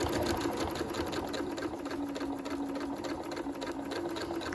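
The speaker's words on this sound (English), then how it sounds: "So here I'm starting my machine stitching with this 1/4 inch foot in place." A sewing machine stitches continuously with a 1/4 inch foot on a top being sewn, a rapid, even mechanical whir close by with a steady needle rhythm throughout.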